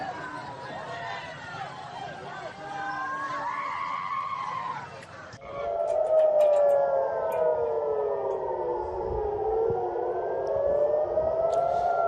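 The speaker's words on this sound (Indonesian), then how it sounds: "Israel membunyikan sirine di seluruh wilayah agar warga tetap berada di dekat area yang aman" Civil defense air raid sirens wail across Israel with rising and falling tones, several overlapping sirens at a distance, joined midway by a louder, nearer siren that sweeps up and down under a background murmur.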